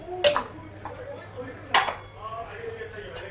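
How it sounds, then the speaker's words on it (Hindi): Dishes, pots and steel utensils being washed in a home kitchen, with two sharp metallic clanks and lighter clinks and scrapes between them, fairly close, with a faint voice in the background. "अब मैं इसमें इसको डाल के ये सारे बर्तन धोऊंगी।"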